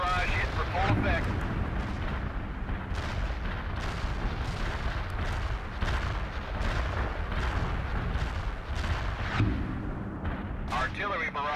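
Dense, continuous artillery barrage in the World in Conflict strategy game, a loud rolling roar of overlapping booming explosions with sharper blasts and a few distinct bursts near the end, heard over a steady rumbling battle bed.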